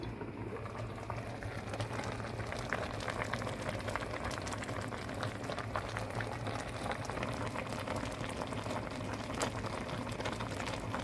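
Khashlama of lamb and beer boils in a pot, a close, continuous bubbling simmer with a soft, even hiss and no one speaking.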